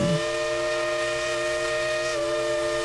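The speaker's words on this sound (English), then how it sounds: "It's one loud whistle." A steam train whistle at Dollywood blows one long, loud, continuous chord-like tone, close and sustained throughout.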